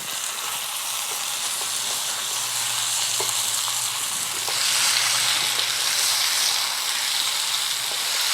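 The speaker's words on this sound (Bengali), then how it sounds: "এখন একটু ঢাকনাটা খুলে নেড়ে চেড়ে দেবো।" Papaya curry sizzles and fries steadily in a pan while being stirred, a dense continuous crackle that swells louder in the second half, with occasional soft scrapes and no talking.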